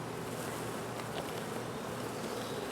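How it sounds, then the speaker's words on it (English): Honey bees buzz in a thick, continuous drone right up close while a beekeeper shakes them off a hive frame, steady and loud with no talk over it. "Shake all the bees off of that frame."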